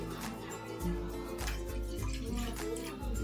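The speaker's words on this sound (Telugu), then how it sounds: "చూడండి నీళ్ళు బాగా మరుగుతున్నాయండి" Water bubbles quietly at a rolling boil, with irregular soft pops and gurgles over a low, steady rumble.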